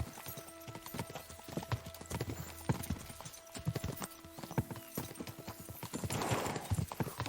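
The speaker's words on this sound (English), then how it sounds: "We should spur the horses on." Horse hooves clip-clop in a steady rhythm in the medieval video game Kingdom Come: Deliverance 2, with several horses trotting together over ambient game noise.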